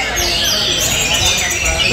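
Busy outdoor bird market bustle with bird chirps and tweets mixed into a steady murmur of crowd noise and distant voices.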